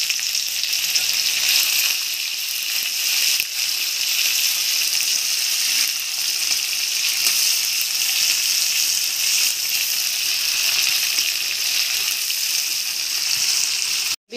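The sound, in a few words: half an onion, chopped, frying in a pan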